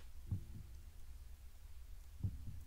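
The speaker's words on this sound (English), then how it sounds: "Nice heartbeat music." Slow heartbeat music in a creepy video game scene, two deep thumping double beats about two seconds apart over a low droning hum, fairly quiet and with no talk.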